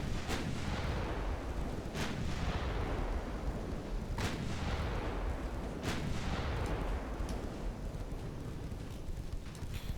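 Warship main guns fire high-explosive shells in a naval video game, with several heavy booming salvos at irregular intervals over a constant roaring rumble of wind and engine noise, and no talk.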